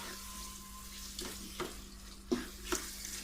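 Chicken angara cooks slowly over a low flame in a pan. A quiet, steady sizzle runs throughout with a low hum underneath and a few soft clinks or stirring knocks at irregular intervals.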